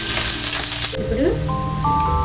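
Chopped onions hit hot oil in a pan while fish curry is being cooked, setting off a loud, close sizzle with brief stirring clatter and no talking.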